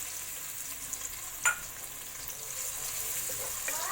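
Onion dropped into hot ghee or oil in a pan for basmati rice, giving a steady close sizzle and hiss with one sharper splash burst early on.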